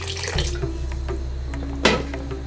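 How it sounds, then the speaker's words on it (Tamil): Half a tumbler of water is poured into a pot of pumpkin kootu simmering with coconut milk and dal, making a steady close splashing rush that runs to the end over a low kitchen hum. "இப்போது நான் ஒரு 1/2 டம்ளர் தண்ணி சேர்க்குறேன்."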